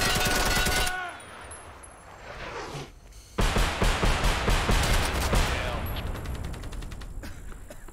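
Rapid automatic gunfire in the free online shooter Hired Ops, loud bursts opening the clip, then a lull and a renewed stretch of fast, sustained firing with overlapping shots.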